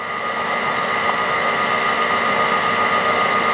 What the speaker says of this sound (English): on the grind setup, we're gonna turn on the work head also at 150